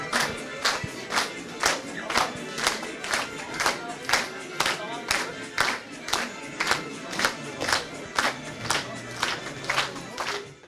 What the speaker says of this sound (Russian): Студенты с танцами, плакатами и громкими аплодисментами чествовали чемпиона.